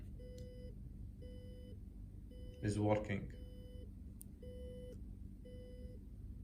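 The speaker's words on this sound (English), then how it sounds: "the system will alert the user by the buzzer." A low-battery alarm buzzer driven by an Arduino sounds a steady run of short, evenly spaced beeps, repeating about once a second, with a brief burst of speech in the middle.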